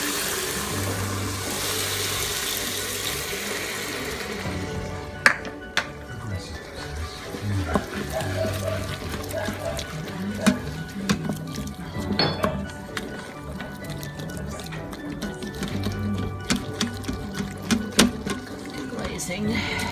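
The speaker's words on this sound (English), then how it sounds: "after that we're going to deglaze the pan" Wine splashes into a hot pan to deglaze it while pork tenderloin gravy is made in an Instant Pot. A steady sizzling hiss runs throughout, with clinks of utensils and scraping on the pan, and a person talks over it at times.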